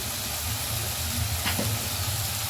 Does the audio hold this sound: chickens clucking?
no